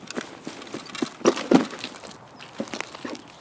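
Footsteps in Escape From Tarkov thud in an irregular run, a cluster of sharper, louder steps midway among quieter ones, with no talk.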